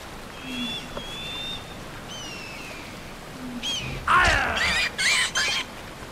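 Harsh bird squawks and screeches in Far Cry Primal, opening with faint thin whistling calls, then bursting into loud repeated cries over a rushing attack noise in the last two seconds.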